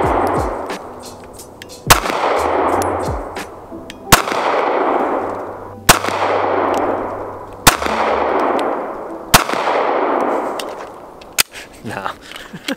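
Walther PPS M2 pistol fired with the smaller magazine: six loud, evenly spaced shots, each followed by a long booming echo that fades before the next, then a few softer clicks and handling noises at the end.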